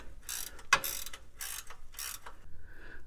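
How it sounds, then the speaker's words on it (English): Ratcheting wrench working a fastener loose on a Honda Odyssey during passenger-side CV axle replacement: several bursts of quick metallic clicking, close and clear, with a sharp tool knock in between. "I'm using one of these really handy ratcheting wrenches, and they work really good"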